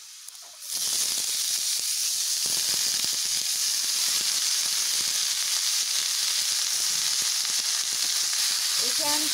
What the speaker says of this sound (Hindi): अब हम इसमें पत्ता गोभी डालेंगे।